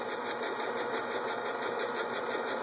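Sewing machine stitching fabric onto felt for coasters, a steady fast mechanical whirring hum at moderate volume running throughout, with no talk.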